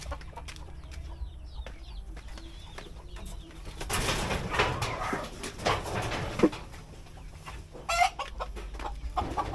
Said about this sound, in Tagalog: Ayan, pakain muna tayo sa ating mga sisiw.